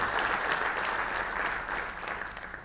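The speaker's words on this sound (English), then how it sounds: "Can we have a round of applause for that?" An audience at a mechanical engineering summit applauds, a continuous round of many clapping hands that holds steady and then starts to taper off toward the end.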